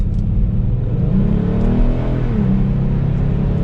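A 2022 Kia Stinger GT1 RWD pulls away in comfort mode, its engine a loud, steady low drone that rises in pitch as it gains speed, heard from inside the cabin with no talking.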